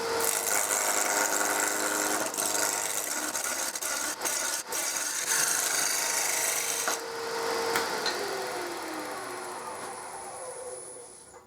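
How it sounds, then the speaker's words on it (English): A roughing-out gouge cuts wood on a lathe with a loud, close, continuous rasping and shaving roar. There are brief interruptions around four seconds, and the cut eases off toward the end as the lathe hum continues. No voices. "And then roughing out gouge again."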